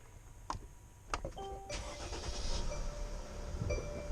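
A 2020 Mercedes Sprinter van's engine cranks and catches after a few faint clicks, then settles into a steady mid-pitched idle, heard close and fairly quiet with no one talking.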